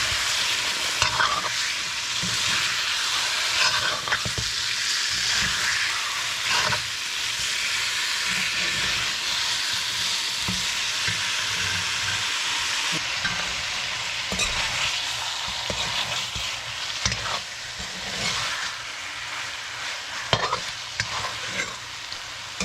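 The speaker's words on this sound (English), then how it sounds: "Alright, so we're gonna mix this up and put it to bunji." Gilbaka curry stirred and frying in a pot, a steady loud sizzle with hissing steam and scraping spoon strokes running continuously throughout, no talking.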